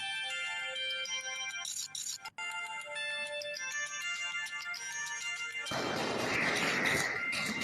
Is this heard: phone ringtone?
yes